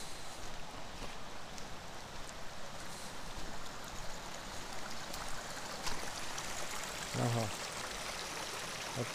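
A mountain stream in the Carpathian forest, Gorgany range, flows as a steady broadband rushing wash close by, continuous throughout with a brief low thump near the end.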